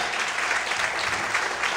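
Congregation at a church service applauding, a brief burst of steady, dense clapping that fills the hall from start to finish.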